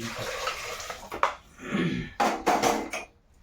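Food being tipped into a pressure cooker while preparing fasting snacks for Ashadhi Ekadashi, with several bursts of clattering metal and pouring or rattling, close and moderately loud, separated by brief pauses and no talk.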